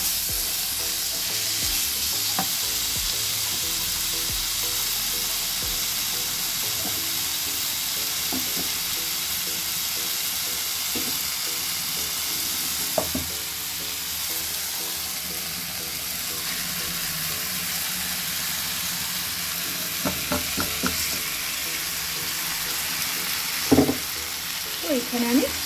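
Food frying in a pan before ground onion and tomato paste go in, a continuous close sizzle with occasional stirring scrapes and clinks, a faint hum beneath, over a long steady stretch.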